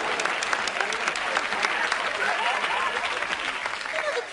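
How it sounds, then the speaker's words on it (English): Studio audience applauding during a cooking comedy show, a dense, even wash of clapping that holds steady for several seconds. "How about some applause?"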